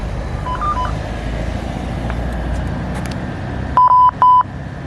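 Two electronic warning beeps at a Caltrain station platform, clear and fairly loud, ringing out one after another over steady background rumble of traffic and station noise.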